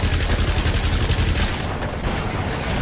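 Electric missiles fired repeatedly in the game inFamous, a loud, dense crackling barrage of rapid blasts that thins slightly toward the end.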